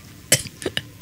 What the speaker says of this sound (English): Old people cough a lot like that.